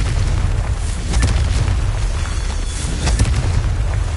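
Fire spell explosions from the Hogwarts Legacy video game, heavy deep booms and bursts rumbling continuously with several sharper blasts, loud and close, with no voices over them.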